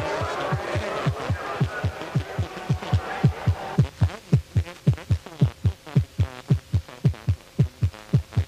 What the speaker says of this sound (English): The driver's pulse is up to about 140 beats per minute when the light turns to green